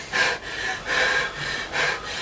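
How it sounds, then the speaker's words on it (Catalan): Someone takes three slow, deep breaths in a row, each a soft airy rush in and out close up, demonstrating calm breathing. "Agafa aire i deixa-la anar."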